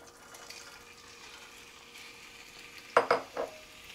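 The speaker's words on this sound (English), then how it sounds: "I'm going to go ahead and dump in my shrimp" Shrimp hit a pan coated in truffle olive oil: a low steady sizzle runs throughout, then a few loud close clatters and splashes mark the shrimp going in, with no talk.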